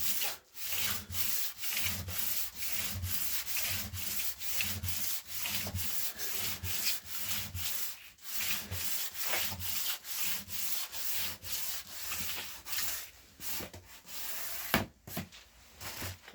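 Wood is hand-sanded with the finest grit sandpaper in quick, rhythmic back-and-forth strokes, a close, dry rubbing that repeats steadily throughout with no talk.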